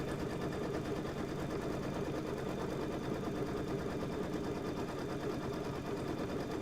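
A sewing machine stitching a quilt block, a fast even whirring rattle running continuously at close range with no talking.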